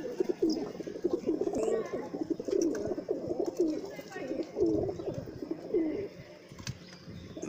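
Pet pigeons coo in soft, repeated throaty rolls close by, the calls coming in a steady rhythm while someone talks over them.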